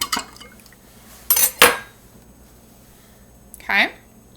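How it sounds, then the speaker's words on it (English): A spoon stirs salt water in a glass, giving a few brief clinks and swishes close by, separated by quiet pauses, with a short liquid swirl near the end. "I'm going to give it a little zhuzh, a little stir too"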